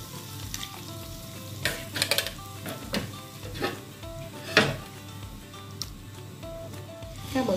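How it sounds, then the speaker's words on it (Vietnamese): Fish is dropped into a pot of simmering broth for a Vietnamese fish noodle soup, with clattering pot and utensil knocks and a steady bubbling sizzle at close range. "Giờ mình sẽ bỏ cá vô."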